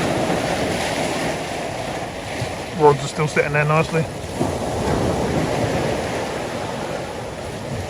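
Waves wash and splash steadily over a sea wall at Walcott on the North Norfolk coast, with wind buffeting the microphone; someone speaks briefly midway through the constant surf.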